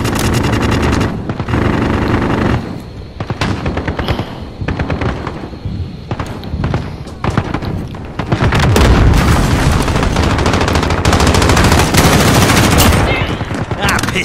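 Loud bursts of machine gun fire and heavy booms rattle through a video game firefight, continuous and close, with brief shouted voices under the shooting.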